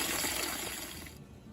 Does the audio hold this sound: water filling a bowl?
yes